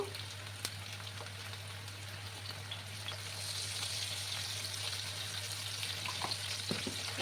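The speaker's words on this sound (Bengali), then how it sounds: "একটু সময় নিয়ে কিন্তু আলুগুলোকে একটু লাল করে আমি ভেজে নেব" Potatoes frying with turmeric in a pan, a steady soft sizzle and crackle running throughout with no talking, growing slightly louder in the second half.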